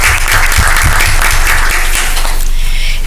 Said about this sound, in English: we're just going to go ahead and give him a round of applause as well